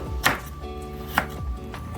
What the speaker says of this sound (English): cut up this potato because we're gonna have it with the steak